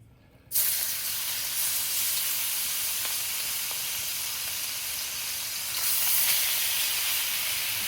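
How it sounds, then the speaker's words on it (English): Shrimp hit a very hot pan for fried rice, bursting into a loud, sustained sizzle and hiss after a brief quiet moment, staying intense throughout with small crackles. "we're gonna get our shrimp in there real quick. It's really hot."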